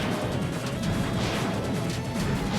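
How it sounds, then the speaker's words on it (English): The knight's attack in the Deltarune video game slicing the bullet board in half: a dense, loud crashing and smashing sound effect that holds steady for a few seconds. "it slices the box in half"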